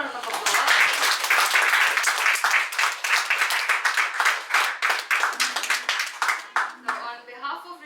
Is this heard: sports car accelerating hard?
no